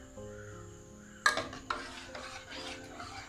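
A spoon scrapes and stirs a pot of taro (chembu) curry with salt and a little water. A few quiet rasping strokes are heard close by over a faint steady background hum.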